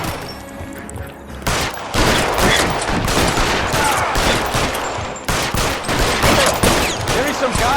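Dense gunfire fills a video-game shootout in L.A. Noire, rapid overlapping shots and bursts cracking loudly and continuously after a quieter opening moment, with no spoken voice over the action.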